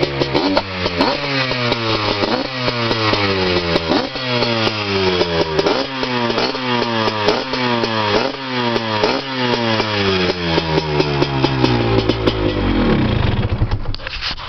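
Honda ATC three-wheeler engine running close up, revving repeatedly in a steady rhythm of rising and falling pulls, loud and alone with no talking, then settling at the end.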